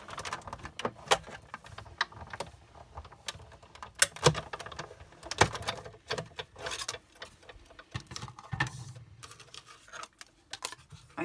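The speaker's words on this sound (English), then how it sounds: "I'm just going to pop the top in and just run that through the die cut machine" Cardstock top layer cranked through a manual die cut machine, giving a steady run of sharp, irregular clicking and ratcheting ticks over about eleven seconds, close and moderately quiet with no talk.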